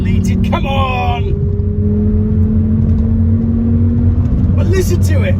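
A small five-cylinder Volvo engine with 284k miles and a manual gearbox idles and revs steadily with a low droning rumble, close by, while someone speaks briefly at the start and end.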